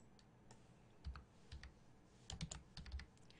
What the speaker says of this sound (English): I really need to get a quiet keyboard.